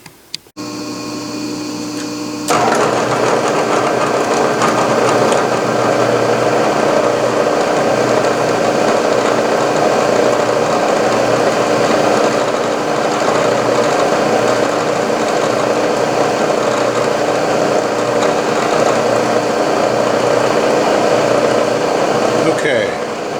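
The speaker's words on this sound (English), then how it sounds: "Let me go turn the rotophase on" A rotary phase converter in a machine workshop starts with a sharp click and settles into a loud, steady hum and whir that drones on unbroken throughout.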